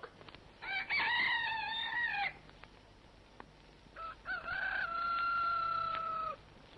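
A rooster crows twice in succession, loud and fairly close, with long drawn-out calls separated by a short pause.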